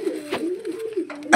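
Heavy-booted pigeons coo close by, with a low rolling coo repeated several times and a few short sharp noises among them.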